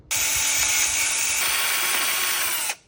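A power drill bores holes in plastic sunglasses for spiked DIY rave glasses, a steady close whine held for about two and a half seconds before stopping, with no talk.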